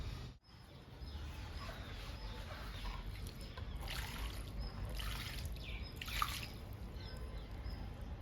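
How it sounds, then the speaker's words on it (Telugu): Water trickles and drips into plant pots sown with GG plant cuttings and henna seeds. The soft splashing runs steadily for several seconds, with a few brighter bursts, close and fairly faint. "గోరింటాకు విత్తనాలకి వాటర్ ఇద్దాము"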